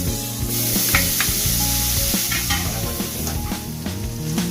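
Onions, garlic and mushrooms sizzle loudly in a pan for pork bola bola, with repeated scraping strokes of a spoon stirring them close up.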